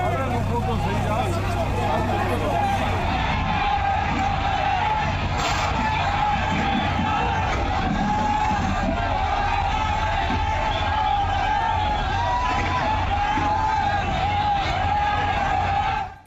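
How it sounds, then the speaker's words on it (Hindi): An angry crowd in uproar during a bulldozer demolition near a mosque in Mangolpuri, Delhi, a continuous dense babble of shouting and yelling voices, loud and steady throughout. "इसी दौरान भीड़ उग्र हो गई और हंगामे के दौरान वहां पथराव भी हुआ"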